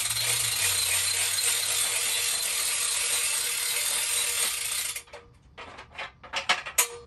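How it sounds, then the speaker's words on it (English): An electric winch lowering a Harbor Freight 20 ton press hums and whirs steadily for about five seconds, then stops, followed by a few scattered metallic clanks and rattles. "I'll flip the switch, and now it'll go down."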